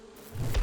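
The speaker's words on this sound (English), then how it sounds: "Well, here come the bees." Bees buzz in the survival video game 7 Days to Die, a brief insect drone that swells louder toward the end, alone without speech.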